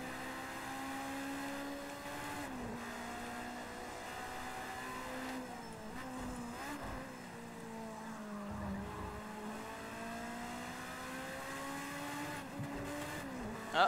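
A race car in a racing video game holds a steady engine tone that dips and climbs with gear shifts, with tire squeal and a few scraping bumps, at a moderate level throughout.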